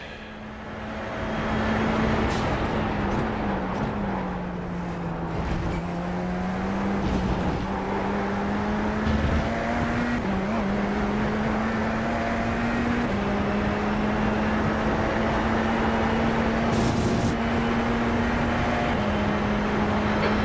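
Race cars circle a racing academy track, engines droning steadily in the distance with a sustained pitch that wavers as they pass; a few brief louder swells and a faint higher whine sit over the broad road noise.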